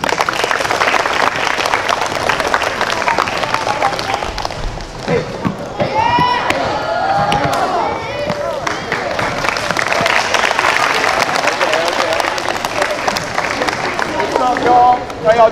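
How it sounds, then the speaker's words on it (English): A crowd of kids at a basketball camp claps and cheers in a steady, dense wash of applause, with shouting voices and a few high whoops mixed in throughout. "put our hands together and get a warm round of applause for Kerry"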